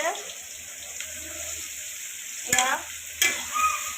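Fish roe frying in a pan, with a low steady sizzle and a high hiss, then two sharp scraping spatula strokes near the end, close and fairly quiet.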